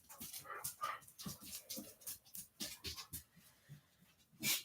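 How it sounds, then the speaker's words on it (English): Dogs whimper and whine in short, repeated bursts, fairly close but quiet, with brief pauses between cries and a louder yelp at the very end. "The dogs are being fun too."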